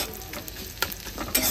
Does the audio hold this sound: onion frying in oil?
yes